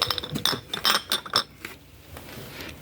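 Patterned glass cups clink together in a quick series of bright, close chinks, then fade to quiet handling.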